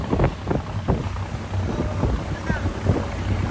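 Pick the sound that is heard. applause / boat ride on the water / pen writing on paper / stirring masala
boat ride on the water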